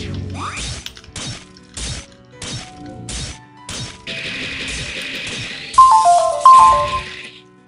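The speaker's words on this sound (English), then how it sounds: "Stupid text message." A short electronic notification chime rings out twice near the end, two bright tonal blips over game music with repeated thuds and a crash.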